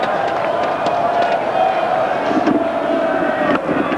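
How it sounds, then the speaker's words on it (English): Spectators at a Christchurch cricket ground during New Zealand against Pakistan clap and chant as a dense, sustained roar, with scattered sharper claps and shouts rising above the crowd bed. "The way they're clapping and chanting away there."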